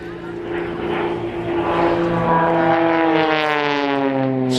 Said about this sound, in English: Blades 3 and 4. Series of flick rolls.